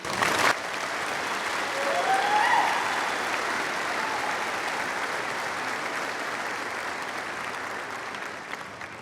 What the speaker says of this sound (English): Please join me in a round of applause to welcome Mr.